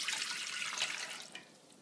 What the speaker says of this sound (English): I'm starting with 1 cup plus 2 tablespoons of water